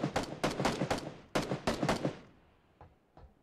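Gunfire in the battle royale game PUBG: two quick bursts of sharp rifle shots in rapid succession, loud and close, followed by a few fainter scattered shots as the echo dies away.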